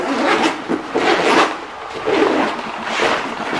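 A zipped pocket on a 5.11 RUSH 12 backpack is run open and shut several times, close and loud, making rasping, slightly gritty strokes.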